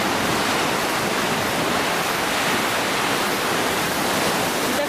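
Surf rolls onto Orient Beach on St. Maarten in a dense, steady wash of broadband noise, close and loud with no breaks or voices.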